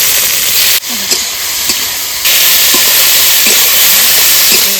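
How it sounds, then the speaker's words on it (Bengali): Ginger, chopped onion and tomato frying in oil for an egg curry masala give a loud, close, steady hissing sizzle, with a brief dip near the start before it swells again. "ডিম কষার জন্য কিছু মশলা ভেজে নেব। তেল দিয়ে দিচ্ছি।"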